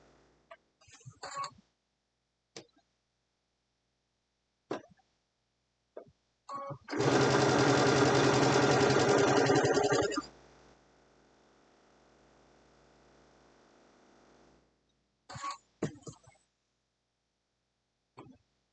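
A sewing machine stitches a pillowcase in one loud, rapid whirring burst of about three seconds, followed by a quieter motor hum and scattered clicks and handling sounds of fabric and pins.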